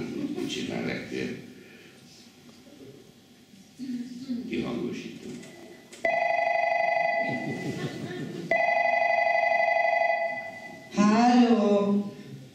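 A telephone rings in bursts of electronic tones during a comedy call, interleaved with voices talking before and between the rings, then a short warbling tone at the end.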